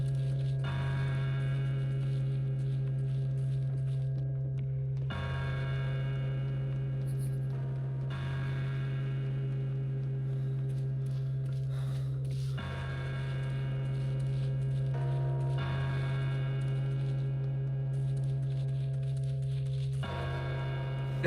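Church bell tolling in the video game Pathologic 2 Alpha, struck about every five seconds with each stroke ringing out over a steady low hum, fairly loud and close, with no one talking.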